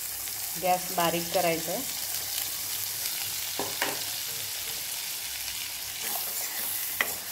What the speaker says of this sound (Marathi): तेल तापल्यानंतर हा बारीक केलेला जो मसाला आहे तो त्यामध्ये टाकायचा आहे।